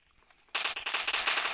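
Gunfire in the mobile game PUBG Mobile: after a brief quiet moment, a sudden burst of rapid, crackling automatic shots rattles on loudly to the end.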